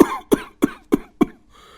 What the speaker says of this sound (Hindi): रात भर खांसी से नींद नहीं आई और सुबह उठते ही फिर वही हाल